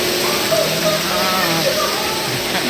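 Steady rushing splash of a waterfall at Knott's Berry Farm, close and continuous, with people talking over it.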